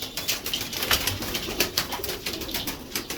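Pigeons kept for racing coo nearby in repeated soft throaty calls, with a few bursts of fluttering wings among them.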